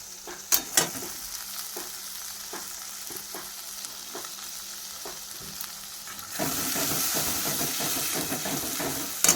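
Turmeric hits hot oil that has been heated very hot in a pan, raising a steady hissing sizzle that swells louder partway through, with a few sharp clicks and taps at the start and end.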